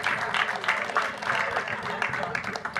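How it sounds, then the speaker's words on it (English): Steady clapping from an audience fills the whole stretch, dense and sustained, with a bright crowd texture and no voices standing out. "let's give a round of applause for our panelists."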